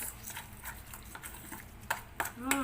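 Semolina rava idli batter being stirred in a bowl, giving a series of soft, irregular scraping and clinking strokes close by, with a few sharper taps near the end.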